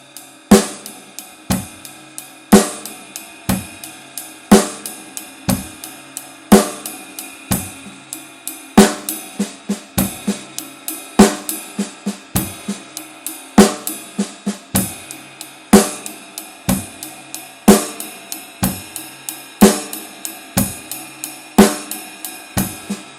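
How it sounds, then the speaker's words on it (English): Paradiddles are played on a drum set in a triplet time feel, with accented strokes. Sharp, close hits repeat in a steady rolling rhythm, with cymbal crashes and bass drum on the accents, and no talking. "set up a basic triplet time feel and then play this pattern exactly the same way as I did before"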